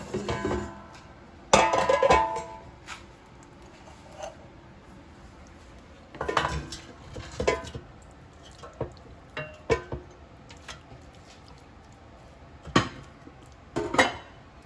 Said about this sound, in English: let's put it in the air fryer basket